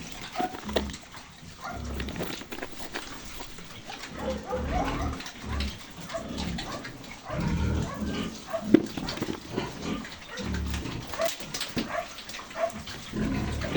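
Young piglets on a farm, kept as breeding replacements in a dim barn, grunting and squealing softly in scattered bursts, with a faint voice and rustling around them.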